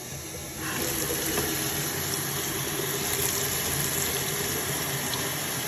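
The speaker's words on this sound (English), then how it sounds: "we're out of water. Let's fill it up." Tap water pours into a pet gecko's water tank, a steady hissing stream that starts after a brief quiet moment and runs evenly to the end.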